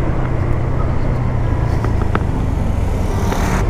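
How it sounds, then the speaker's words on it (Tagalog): Road traffic rushes past during a ride on a Honda PCX motorcycle, a loud, steady roar of wind, engine and passing vehicles with no break. "Yun lang, traffic."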